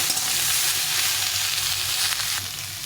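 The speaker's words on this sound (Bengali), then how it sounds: "তো এই সবটা একটু ভেজে নেবো ভালো করে" Cauliflower stalks and mixed vegetables fry in oil in a pan, a steady close sizzle with a faint hiss and light stirring, softening slightly toward the end.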